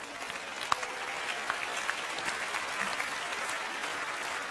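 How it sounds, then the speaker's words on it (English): Steady applause from an audience at an awards show with a magic and hypnosis act, dense and continuous throughout with a few sharper claps standing out. "Round of applause for these people."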